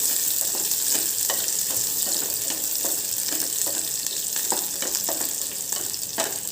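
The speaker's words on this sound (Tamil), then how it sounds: "வெங்காயம் இந்த மாதிரி நல்லா வதக்கிக்கோங்க." Onions sautéing in a pan for a seru keerai dal give a loud, continuous sizzle, broken by repeated scraping stirs that come through clearly and close up, with no talking.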